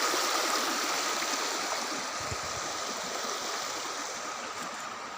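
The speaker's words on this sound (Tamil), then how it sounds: "இந்த தூம்பில் இவ்வளோ தண்ணி போயிட்டுருக்கு" Water pours steadily through a culvert beneath a small bridge, making a dense, continuous rushing hiss that stays loud and even throughout, with no voices over it.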